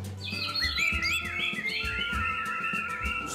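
A songbird chirps and whistles in a rapid, rising and falling run of bright calls answering another call, continuous and fairly close over a low background hum.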